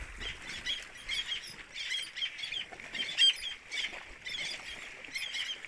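A flock of seabirds on a bare rock in the middle of the sea gives off dense, faint, overlapping chirps and squeaks that flutter continuously at a distance.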